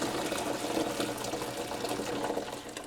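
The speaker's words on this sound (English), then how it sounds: "I'm just going to strain some of this boiling water over those leaves" Boiling water strained and poured over harvested celery leaves, a steady close splashing, gushing stream of liquid running for a few seconds without pause.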